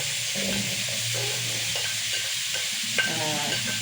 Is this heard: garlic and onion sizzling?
yes